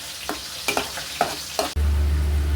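Dried loitta fish in a pan, a few soft stirring scrapes before a sudden, loud, steady sizzle and bubbling as water hits the hot pan, close by with no voices.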